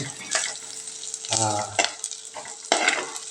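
Chopped onion frying in a pan, a soft continuous sizzle broken by several louder spoon scrapes and stirs at irregular intervals, close by and with no speech.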